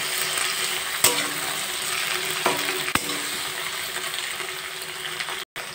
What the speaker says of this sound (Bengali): এবার ঢ্যাঁড়সগুলো ভালো করে ভেজে নেব